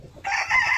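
Part of a gallino gamecock rooster's crow rises abruptly and holds, loud and near, cut short.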